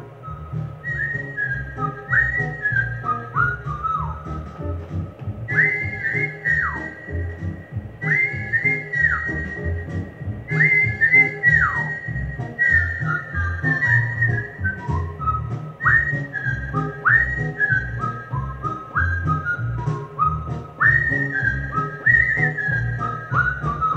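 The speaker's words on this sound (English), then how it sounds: "my beautiful whistling of my one of my favorite kid shows" Someone whistles a bouncy melody alone, with short phrases and sliding notes over a soft, steady background hum.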